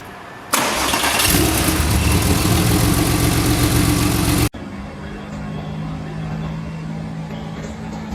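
Porsche 911 Carrera 4 with a 3.6-liter flat-six, as rendered in Porsche Unleashed, catches and revs hard for several seconds, cuts off abruptly, then settles into a steady idle.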